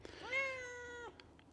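A single drawn-out cat meow from a cat found indoors, clear and fairly close, with a rising start and an even held tone before it cuts off, followed by faint soft noises.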